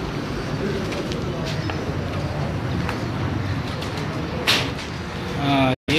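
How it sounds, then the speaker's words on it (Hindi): Pigeons cooing on a Muslim Town rooftop in a breeder's loft, soft low coos under steady outdoor noise with a brief sharp sound near the end and no clear talk. "ये सारे जी टैडी अच्छे कबूतर हैं।"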